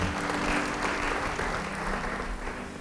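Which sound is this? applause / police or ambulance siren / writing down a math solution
applause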